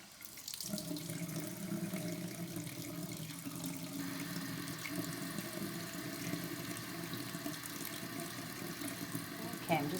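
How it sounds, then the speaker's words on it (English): Hands being washed with soap under a running tap, making a steady, continuous rush of water close by for the whole stretch. "I'm just washing my hands"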